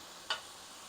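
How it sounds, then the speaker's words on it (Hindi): Cumin powder, salt and turmeric are stirred in a pan for Mexican rice: one quick, soft scrape of a utensil over a faint, constant sizzle. "अच्छे से मिक्स करेंगे"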